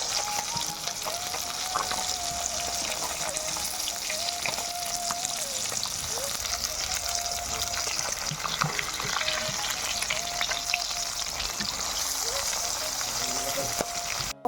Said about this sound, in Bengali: এদিকে ঘাটি কচু ভাজা বসিয়ে দিয়েছি।